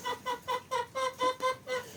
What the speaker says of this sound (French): on entend une des poules caqueter